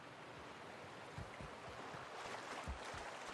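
Waterfall and stream in the video game The Outer Worlds, a steady faint rushing wash of water with soft low splashes and burbles scattered throughout.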